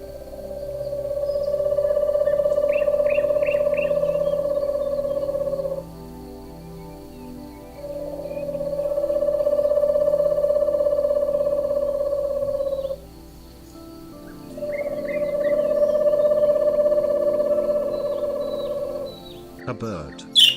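An owl gives three long, steady hoots, each lasting several seconds and separated by short pauses. The calls are clear and close against a quiet background.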